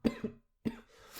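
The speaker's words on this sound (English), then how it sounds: "You know what's weird about this this cough? It won't go away." A person coughs three times in quick succession, close and fairly loud, in a quiet indoor setting.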